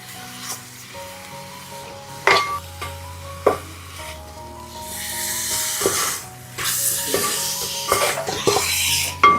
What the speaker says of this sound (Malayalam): ഇനി ഇതെല്ലാം നന്നായിട്ട് ഒന്ന് ഇളക്കി യോജിപ്പിക്കാം